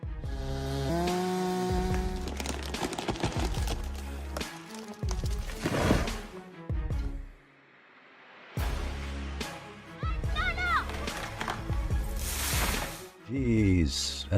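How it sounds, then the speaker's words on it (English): A chainsaw with a 36-inch bar revs and cuts into a huge 8-foot tree. The engine surges loudly with pauses between cuts, and people talk over it. "Cutting an 8-foot tree with a 36-inch bar."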